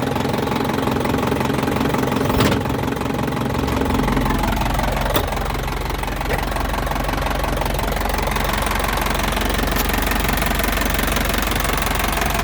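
An Isuzu 4HG1 turbo diesel engine in a 2006 NKR six-wheel truck runs loud and steady with a deep, knocking rumble, its pitch shifting slightly as it is revved; no voices.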